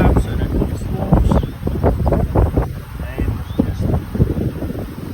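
Wind gusting outdoors around an open beehive during a summer brood inspection in South Africa, a steady broadband rush with mic buffeting under intermittent talking throughout.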